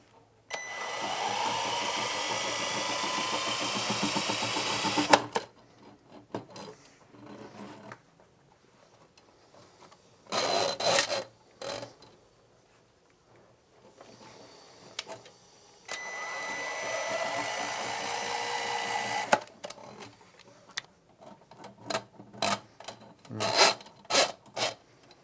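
A powered canister-style drain cleaning auger runs in a drain in two long bursts of whirring, rasping motor noise of about five seconds each, separated by quieter stretches of short clicks and brief spurts of operation.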